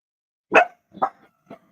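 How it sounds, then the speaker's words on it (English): Dogs barking outside, heard from indoors during Christmas gift wrapping: three short, muffled barks, the first loudest, then two fainter ones, with quiet between. "They hear those dogs outside."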